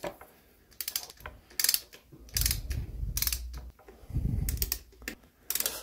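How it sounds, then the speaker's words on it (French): A wrench works the screws on an electric bike motor, giving bursts of quick metallic ratcheting clicks and small clanks in irregular clusters, with faint low rumbling handling noise between them. "je viens rapprocher petit à petit toutes les vis"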